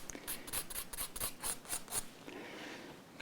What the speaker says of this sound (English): Do a little bit of scraping just to even it out